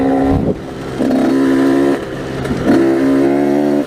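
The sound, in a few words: KTM 85 SX dirt bike engine revving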